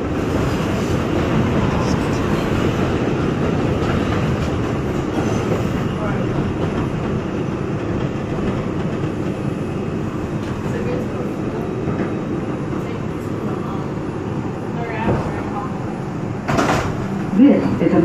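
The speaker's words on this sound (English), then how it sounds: "This is a Manhattan-bound 2 train." An R142 subway train on the Manhattan-bound 2 line rumbles loudly from inside the car, a steady rolling roar with rattles and clanks and a louder metallic burst near the end, while announcements play over it.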